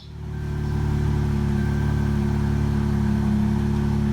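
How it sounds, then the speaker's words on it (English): A V6 engine in a Dodge Charger, just fitted with new fuel injectors, catches and settles into a steady, loud idle close by, its low hum rising over the first second and then holding even. "So I'm gonna go ahead and start it up and let it run for a couple minutes"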